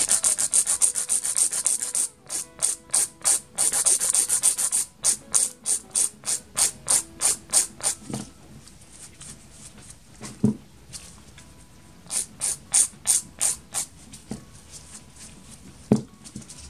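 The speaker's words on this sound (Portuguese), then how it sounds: "agora que eu vou vir com a minha lixa manual e vou lixar um pouquinho desse comprimento" A hand nail file rasps against a fibreglass gel nail in quick, evenly spaced strokes, close and crisp, running in several rhythmic bursts with brief pauses between, and no talking.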